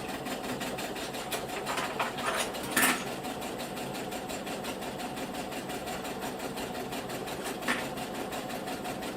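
Sewing machine running a long seam on bummies, a fast steady stitching whir with a few sharp clicks early on, fairly quiet and close.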